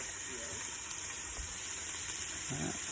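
Food browning in a pan inside a van, a steady moderate sizzle with a faint bump or two, no talk.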